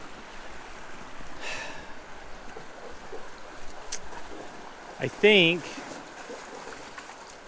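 A river flows with a constant soft rushing wash, fairly close and even. Someone speaks briefly near the end.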